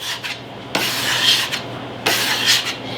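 Sourdough dough being shaped by hand on a dry work surface, with a dry scraper nearby: soft rubbing and sliding strokes in two longer sweeps, close and fairly steady, with no talking.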